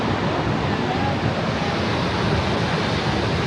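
A waterfall roars with a dense, steady rush of falling water, loud and unbroken throughout.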